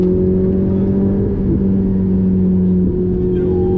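A Ferrari 488 GTB drives the 24 Hours of Le Mans circuit, its engine a loud, steady droning hum heard from close by, holding a near-constant pitch with slight shifts.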